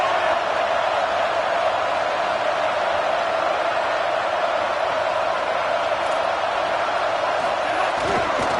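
A big college football stadium crowd roars during a game against Virginia Tech as the home defense pins the opponent deep in its own end, a loud, steady wash of voices holding at one level throughout.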